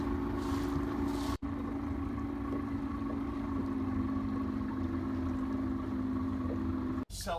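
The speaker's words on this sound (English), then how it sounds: "the four of us piled onto the dinghy. We motored past Britican" A small dinghy with an outboard motor crossing open water, its steady motor drone and wind noise running throughout, close and fairly loud, with two brief dropouts.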